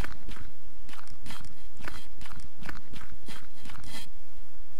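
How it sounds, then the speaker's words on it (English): Rapid footsteps thud and crunch in a quick, steady rhythm in the indie video game Maziaks, fairly loud over a constant noisy background. "I can hear steps again, which is not very reassuring."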